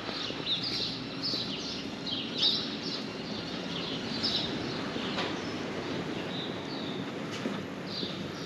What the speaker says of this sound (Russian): Да полно птиц.